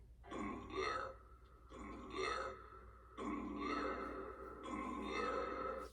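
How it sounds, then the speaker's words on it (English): Four long, drawn-out burps in a row, each a few seconds with short pauses between, fairly loud and close. "This calls for a burp joke."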